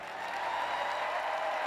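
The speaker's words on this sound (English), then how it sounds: "Big cheer for the Chair of Disability Sport from Northern Ireland." Stadium crowd at an evening Paralympic athletics session in London cheering and applauding for a Northern Ireland disability sport official, a steady, dense wash of clapping and cheers sustained throughout without a break.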